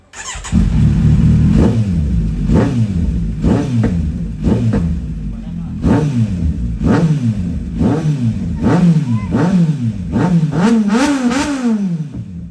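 A Kawasaki Z900 motorcycle engine is revved hard again and again, each blip climbing to a sharp scream before dropping back, a loud close run of throttle bursts with voices in the background.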